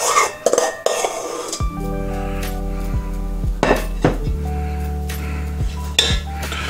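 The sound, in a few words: mixing macaron batter with orange blossom in a bowl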